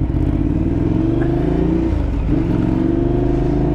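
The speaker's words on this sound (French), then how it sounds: "Elle sort à l'instant du garage. Donc premier tour de roue avec la moto." A Ducati Diavel motorcycle pulls out of a garage, its engine rumbling close and loud with a couple of throttle blips, the pitch dipping and rising as it rolls off.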